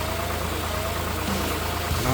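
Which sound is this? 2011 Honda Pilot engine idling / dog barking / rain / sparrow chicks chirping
2011 Honda Pilot engine idling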